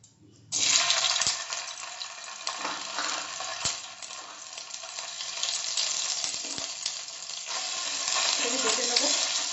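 Ginger garlic paste dropped into hot oil in a wok for Mughlai chicken nihari, a sudden loud sizzle burst that settles into steady crackling frying with a few utensil knocks.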